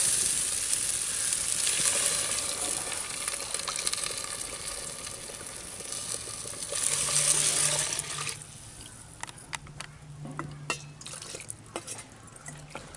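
Tamarind water mixed with masala pours into eggplant frying in a pan, a loud rushing sizzle and splash that settles into softer bubbling with scattered clicks of stirring.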